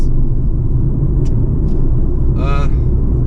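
Steady engine and road rumble from inside a BMW X2 sDrive20i on a mountain run up to Genting, loud and constant, with a short vocal sound partway through.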